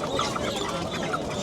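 Roosters and hens cluck and call at a busy poultry market, a steady layer of short squawks and clucks over crowd background noise.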